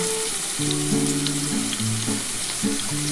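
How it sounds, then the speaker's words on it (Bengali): Potatoes sizzle in hot oil in a pan, the first step of a poppy seed posto dish made with potatoes, pointed gourd and ridge gourd. A continuous frying hiss runs close and steady, with a faint tonal hum beneath it. "আলুটা একটু লাল লাল করে ভেজে তারপরে আমি পটল আর ঝিঙেটা দেবো"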